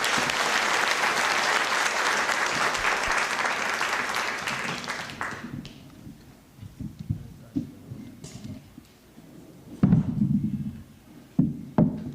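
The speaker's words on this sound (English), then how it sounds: "I would like to ask the audience to join me in giving a hearty clap to our distinguished panelists" Delegates at an international scientific conference give the panelists a hearty round of applause that holds strongly for about five seconds, then fades into scattered claps, taps and quiet room noise with brief bursts of handling.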